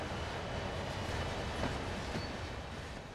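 Train rolling through a rail yard in Train Sim World, a steady low rumble of wagons and wheels on track, continuous and fairly quiet, with no talking.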